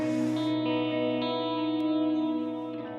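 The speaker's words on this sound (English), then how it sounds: "So this is a cathedral echo." A sustained, sweeping tone rings out with a cathedral echo reverb effect, long and layered with a shimmering tail that slowly fades, with no voices.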